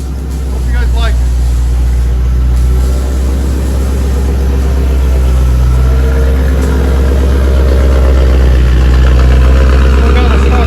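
A Ford F-150/F-250 truck with a 5.4L Triton V8 and a loud aftermarket exhaust idles with a steady, deep, throbbing rumble, close and loud throughout, with people talking over it.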